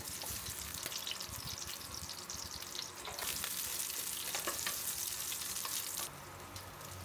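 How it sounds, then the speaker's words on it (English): Onion sautéing in a pan, a dense, continuous sizzling hiss that swells louder midway and then eases, with little stirring audible. "First, I'll saute the onion"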